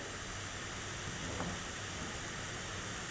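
Onion and spices roasting in a pan for shahi paneer masala, giving a faint, steady sizzling hiss with no talking.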